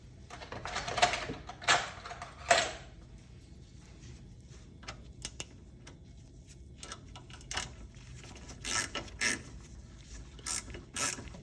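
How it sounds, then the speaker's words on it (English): A hand ratchet tightens bolts on a snowblower housing made of plastic and aluminum, giving short bursts of quick clicking strokes separated by quiet pauses, close and fairly crisp. "now I can tighten these back up."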